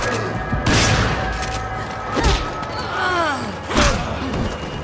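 Shotgun fire in the Resident Evil 5 game, several loud booming blasts spaced a second or so apart, with heavy thuds and game effects between them.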